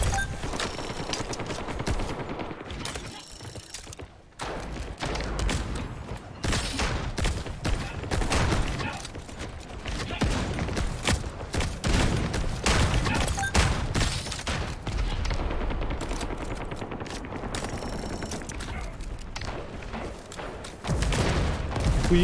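Rapid gunfire from a computer game, dense bursts of automatic and heavy shots with thuds and booms, loud and nearly continuous with only short pauses.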